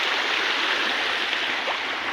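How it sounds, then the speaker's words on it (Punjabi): Floodwater flows continuously through rain-flooded paddy fields with a steady, even rushing like a nearby stream, with no pauses or voices. "ਕਿਵੇਂ ਪਾਣੀ ਦੀ ਆਵਾਜ਼ ਆਈ ਜਾਂਦੀ ਚੱਲਦੇ ਦੀ"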